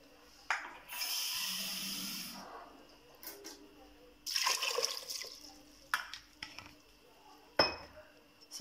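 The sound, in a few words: pouring a liter of water into a pot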